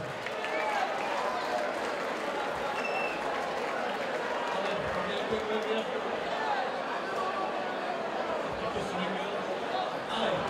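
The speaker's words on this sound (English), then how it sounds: "a big round of applause for your honor tonight from the Dragon's Lair Gym, King Kauppinnen" Crowd at a combat sports event cheering and applauding a fighter after a three-round bout, a steady wash of claps and voices at moderate distance with an announcer talking over it.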